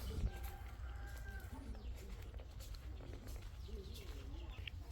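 Faint bird calls, crows and sparrows, chirp intermittently at a distance around a traditional house in Thiruvannamalai, quiet over a low background hum.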